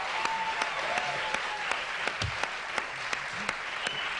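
Steady audience applause from a live late-night studio crowd fills the whole stretch, dense clapping with a few sharper claps poking through and a faint voice or two underneath.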